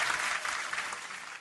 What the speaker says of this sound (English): So, for a round of applause for you, big dog.